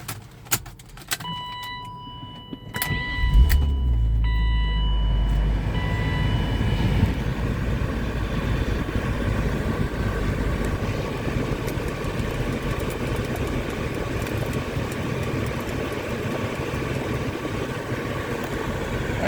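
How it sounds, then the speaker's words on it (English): A 1998 BMW 323i cold start: a few clicks and a brief cranking, then the engine catches and settles into a steady, loud, even idle that continues throughout. "let's do a cold start."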